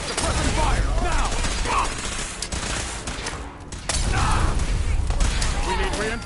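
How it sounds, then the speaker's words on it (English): Suppressing gunfire in the video game Fallout 4, a loud sustained fusillade of rapid shots with a short dip in the middle before resuming, voices shouting over it. "Suppressing fire! Now!"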